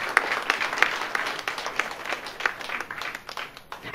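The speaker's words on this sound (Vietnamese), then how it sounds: "xin hãy vỗ tay ngợi khen Chúa với tôi điều này" A church congregation at a Vietnamese worship service claps in praise, a dense patter of many hands, fairly close and sustained, with some speech faintly underneath, ending in a sharp loud hit.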